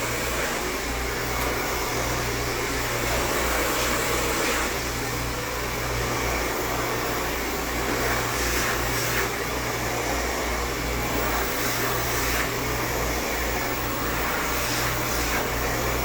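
A hair dryer running on high heat during a silk press blowout on natural hair, a loud, continuous airy roar with a steady low motor hum, close and unbroken for the whole stretch.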